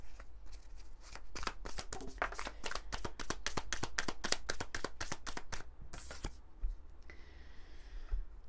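Oracle cards from the Graines d'amour deck riffled and shuffled by hand in a long run of quick, crisp snaps, close and steady, easing into softer card handling near the end.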